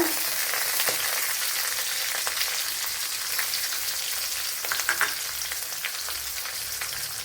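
Chopped green chillies sizzle and crackle in hot oil in a pan for a Kerala beans and carrot thoran, a steady bright frying hiss with scattered pops and a few stirring clicks, close and continuous.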